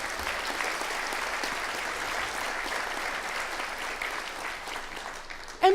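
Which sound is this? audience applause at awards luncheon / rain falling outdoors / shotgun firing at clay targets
audience applause at awards luncheon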